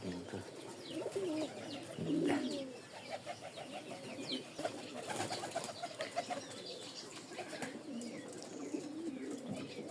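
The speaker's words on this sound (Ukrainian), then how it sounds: "Це голуб." Pigeon cooing outdoors, soft low coos rising several times over a steady bed of background chirps and ambient noise, with faint voices in the distance.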